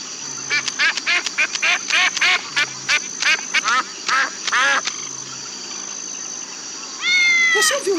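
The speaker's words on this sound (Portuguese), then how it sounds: "Você ouviu isso? Tem um gato por aqui." Rapid repeated squeaky calls patter in quick bursts over a steady background hum, ending with a drawn-out, wavering meow-like cry from a cat in a 1999 CD-ROM children's farm game.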